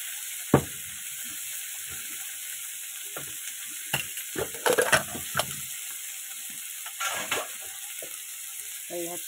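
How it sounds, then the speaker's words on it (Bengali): Flat beans and radish being lightly fried in a pan for a mixed lentil dish: a faint continuous sizzle with scattered clinks and scraping stirs, a sharp knock near the start and a cluster of busier stirring midway. "ছিম আর মূলোটাকে এই যে ভেজে নিচ্ছি একটু হালকা করে"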